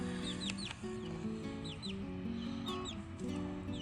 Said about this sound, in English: 2 of them are red laced Wyandottes, and 1 is an olive egger.